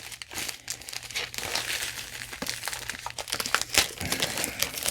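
Plastic bag sealed with tape being unwrapped, giving close, continuous crinkling and crumpling with short tearing bursts, no talk.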